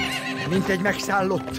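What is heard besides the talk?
horse neighing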